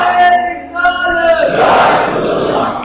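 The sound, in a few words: crowd shouting in response to a slogan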